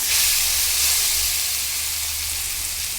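Grated raw mango, peel and all, hits hot ghee with jaggery and dry ginger powder, giving a steady, close, bright sizzling hiss that eases slightly over a few seconds, with no voices.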